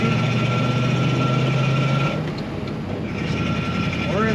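A 1936 Ford Tudor sedan with a floor-shift 3-speed manual, its engine droning steadily while driving, the low tone dropping away briefly around a gear change before resuming, with constant road and cabin noise throughout.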